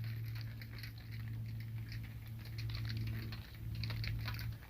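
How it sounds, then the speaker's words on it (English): Rain falling on a desert food forest homestead during a drought, a soft, faint steady patter with scattered light ticks over a low continuous hum. "Never in a million years I would say I'm glad to see rain."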